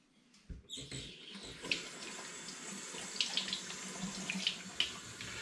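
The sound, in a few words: rinsing glass bottles under a running tap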